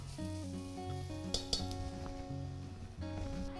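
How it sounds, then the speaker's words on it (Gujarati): Steady frying sizzle of finely chopped onion in a pan for Gujarati dal, with a couple of sharp utensil clinks against metal, close and moderately quiet. "અને કાંદાને 2 થી 3 મિનિટ સુધી ચડવા દેશું."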